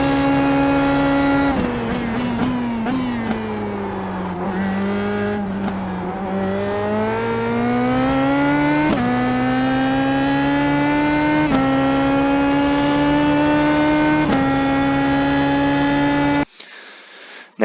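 An Indy Pro 2000 race car screams around the Suzuka circuit in the iRacing simulator, its engine a loud, sustained, close-up whine that dips and climbs with each gear shift and cuts off abruptly near the end.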